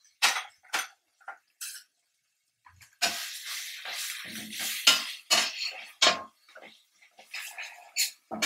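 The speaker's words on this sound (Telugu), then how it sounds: "ఇప్పుడు ఉప్పు గోలాలి, మంచిగా గోలాలి." Salt stirred into chicken biryani masala in a metal pot, with short bursts of spoon scraping and clinking, a quiet gap, then a longer run of stirring.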